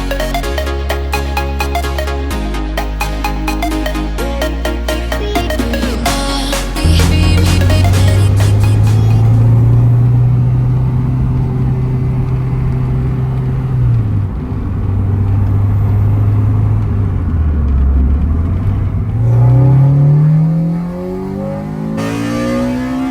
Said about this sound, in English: Nothing has the soul of an old Honda, especially with just a ripping VTEC like this.